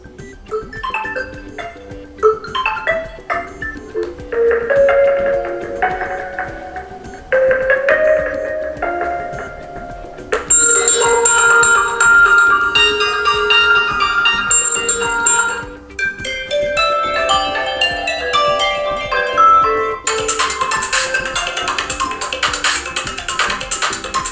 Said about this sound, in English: Then you can also choose one from phone ringtones.